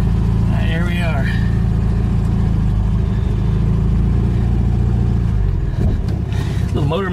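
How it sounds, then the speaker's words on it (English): A VW Beetle engine runs loud and close with a steady low rumble, rising briefly as it revs before settling again. A voice is briefly heard over it. "Little motor makes some good torque."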